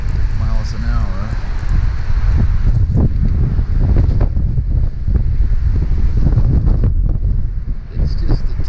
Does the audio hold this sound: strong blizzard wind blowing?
yes